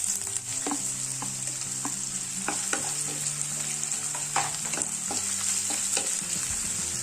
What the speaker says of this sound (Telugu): ఉల్లిపాయలని బాగా బ్రౌన్ కలర్ వచ్చే వరకు వేయించుకోవాలి